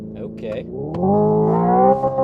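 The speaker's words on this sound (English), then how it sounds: "you can literally bounce this thing off the rev limiter" Hyundai IONIQ 5 N electric car revving with simulated engine sound, a rising harmonic tone climbing steadily and holding near the top as if bouncing off the rev limiter, close and fairly loud, with a voice speaking briefly at the start.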